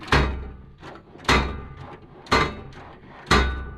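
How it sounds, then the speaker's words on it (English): Drawers on a new ICON toolbox slammed shut four times in a row, each shut a loud, harsh metallic bang with a short rattle after it, close up and with no talk over it. "I was shutting the drawers and they were just sounding heinous"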